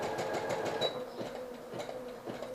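Sewing machine back stitching fabric, a quiet rapid mechanical chatter of the needle in short rhythmic bursts, close and alone.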